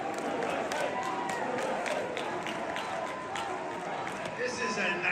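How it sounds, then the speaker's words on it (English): Crowd at a rally cheering and clapping, a broad steady roar of applause and voices filling the space, with someone speaking over it. "This is a nice crowd."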